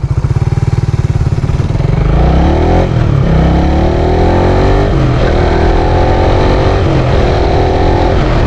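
A motorcycle engine revs loudly through a rev-matched downshift, with throttle blips lifting the pitch in rising sweeps over a steady close idle and no talking.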